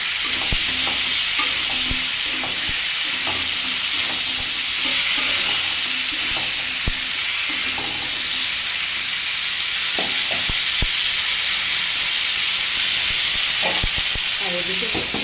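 Eggplant and okra fry in a pan with chilli, salt and turmeric, producing a loud, continuous hissing sizzle with scattered scraping and stirring knocks from a utensil.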